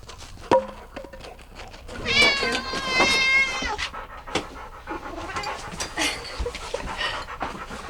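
A dog pants heavily and rhythmically after fetching on a hike at Cassidy Arch in Capitol Reef National Park, close to the microphone, with a brief high whining cry in the middle.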